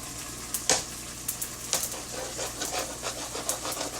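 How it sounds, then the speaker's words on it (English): A spoon stirs seasonings into leftover beef hash in a pan, with a soft steady sizzle and a few scattered scraping clicks, close and moderately quiet, with no voices. "Stir the seasonings up in this"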